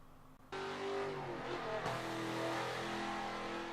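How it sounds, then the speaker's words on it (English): A 1970 Dodge Coronet Super B muscle car engine lapping the Sonoma Grand Prix circuit in Forza 7 cuts in after a brief quiet, then holds a loud, steady, close roar with rising revs and gear changes. "The 4th car to go around the Sonoma Grand Prix circuit is our reigning champion car, the 1970 Dodge Coronet Super B"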